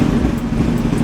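A superbike engine fires and runs at a low, even idle, a close, loud, steady mechanical rumble with no talking.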